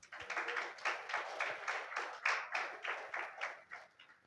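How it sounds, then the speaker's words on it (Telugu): A church congregation claps together in a steady round of hands, about three claps a second for several seconds, fairly soft and slightly distant, with no voices over it. "ఒకసారి చప్పట్లు కొడదాం."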